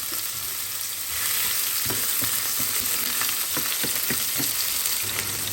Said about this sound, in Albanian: Pasi që vaj është nxehur, tash i karodisim qep